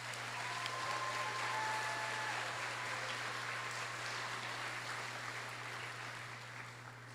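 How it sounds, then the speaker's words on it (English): An eighth grade completion program audience gives a steady round of applause for a class, even and sustained throughout, with a low constant hum underneath. "Let's give Miss Rudd's class a round of applause."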